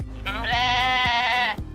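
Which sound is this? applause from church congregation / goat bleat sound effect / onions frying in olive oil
goat bleat sound effect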